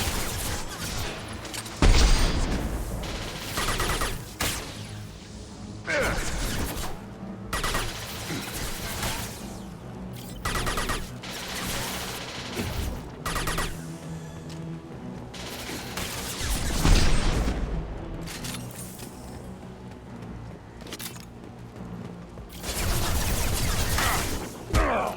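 Weapons fire in combat in Mass Effect 2 Legendary Edition, with scattered loud bursts and bangs, heavier impacts around the middle and irregular volleys under a soft backing score.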